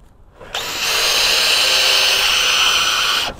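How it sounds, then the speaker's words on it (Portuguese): A battery-powered drill boring a pilot hole into wood with a suitable bit, a loud steady whine that spins up quickly, holds for nearly three seconds, then stops. "Obviamente sempre com broca adequada para o tipo de material a ser perfurado, neste nosso caso aqui madeira."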